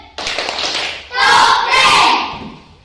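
A class of students performs a rhythmic group clap chant, starting with a burst of clapping and shouting that swells into a loud, sustained crowd cheer before fading out.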